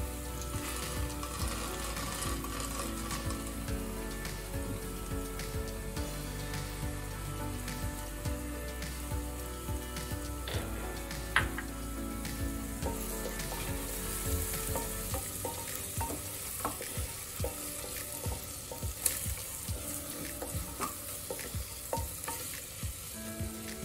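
Lentils with spices sauté for palak rice in a pan, giving a steady soft frying hiss with scattered light scrapes and taps of stirring, moderately quiet and free of speech.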